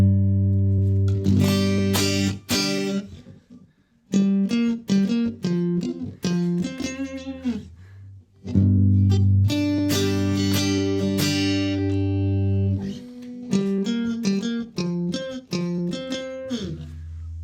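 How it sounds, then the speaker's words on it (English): Acoustic guitar through the Archetype: Plini guitar plugin, strummed chords and picked phrases played alone in short bursts, with abrupt gated cut-offs between passages and clear, close, fairly loud tone. "it's literally an acoustic guitar is what I'm hearing here"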